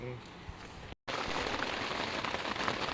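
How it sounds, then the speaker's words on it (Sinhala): Heavy rain pours outside a campsite at Kabaragala, Sri Lanka, as a dense, steady hiss of drops drumming on surfaces. After a brief cutout it resumes louder and continuous. "එළියේ වහිනවා හොඳටම."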